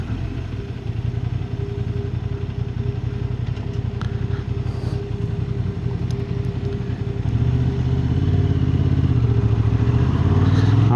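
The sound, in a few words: Honda Hornet 750 motorcycle riding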